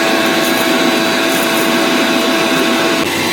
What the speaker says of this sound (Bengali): এখন মিক্সিতে মশলা করছি